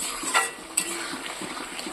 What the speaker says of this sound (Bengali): তো মশলাটা আমি ভালো করে কষিয়ে নিচ্ছি।